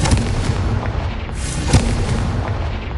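A Confringo spell blast in the Hogwarts Legacy video game produces a loud, dense booming roar that rumbles steadily for about three seconds with a few sharper thuds inside it.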